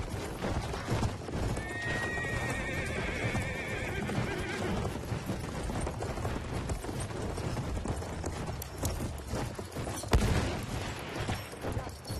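A horse gallops with steady rhythmic hoofbeats and lets out a whinny during a Battlefield 1 match, heard close amid battlefield noise and scattered game sounds.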